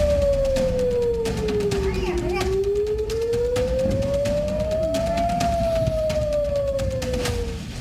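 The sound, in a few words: air raid sirens sounding in Israeli cities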